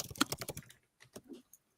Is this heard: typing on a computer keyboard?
yes